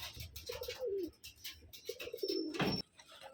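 Pigeon cooing in a rhythmic series of soft, throaty coos, two bursts separated by a short pause, close by and fairly faint, with a brief sharper sound near the end.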